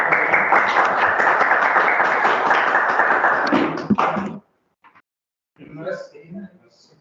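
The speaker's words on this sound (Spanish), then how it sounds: "Damos un aplauso." A class of students claps for about four seconds, a busy patter of hands that stops abruptly, followed by a brief silence and then voices talking.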